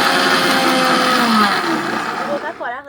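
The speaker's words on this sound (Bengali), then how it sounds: "এরপর ভালো করে গুঁড়ো করে নিচ্ছি" A mixer grinder whirs loudly while grinding spices for homemade Maggi masala. The close, steady motor whine runs continuously, then winds down as the machine stops.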